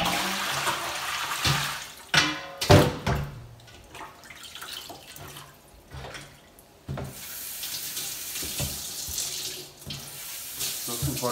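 Warm water runs from a kitchen tap in bursts, splashing and gurgling into a sink while something is rinsed under it, loud and close with brief pauses and clatter between streams.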